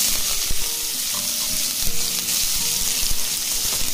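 Chopped onions fry in hot oil over a medium flame with a dense, continuous sizzle, broken by occasional clicks and stirring knocks near the pan.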